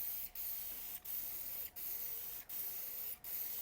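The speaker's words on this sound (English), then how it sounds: "Okay, and now we're spraying." A Preval aerosol paint sprayer hisses in steady bursts, five short pauses breaking a continuous broadband spray over a few seconds, fairly faint and with no voices.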